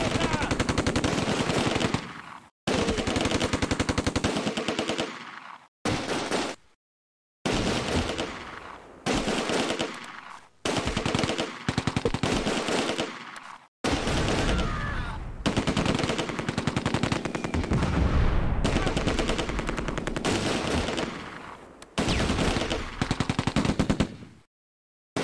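Bursts of .30 cal machine gun fire in the Close Combat war game, loud sustained rattling volleys broken by short silent gaps, repeating across the whole stretch with no talk.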